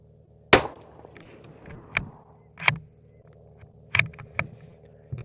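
A CZ 457 American rifle in 17 HMR fires a Hornady V-Max 17 grain round with one sharp crack, followed by several smaller clicks and knocks of bolt handling at close range, with no speech.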